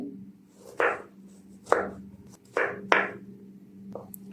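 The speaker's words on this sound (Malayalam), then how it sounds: "ഇതിൻ്റെ അകത്തേക്ക് ചെറിയൊരു പീസ് ഇഞ്ചി എടുത്തിട്ടുണ്ട്, അതുകൂടി കട്ട് ചെയ്യുന്നുണ്ട്" A knife chops a small piece of ginger and shallots on a board in five distinct, sharp thuds spaced irregularly, close and clear against a quiet background hum.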